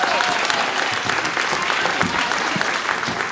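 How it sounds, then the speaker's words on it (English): An audience at an African elephant show at Grant's Farm in St. Louis claps in a brief, steady round of applause, dense and even from start to finish. "Let's give him a round of applause for showing those ears off."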